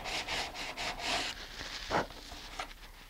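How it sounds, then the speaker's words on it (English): Coarse-grit sandpaper rubbed back and forth over a rocket body tube, making rhythmic, close, scratchy strokes about four times a second, then slower uneven scrapes. "coarse grit and just kind of go at it, making sure you don't sand too much of your actual tube"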